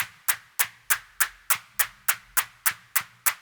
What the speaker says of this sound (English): you're going to get 16 different claps because it's a stochastic virtual analog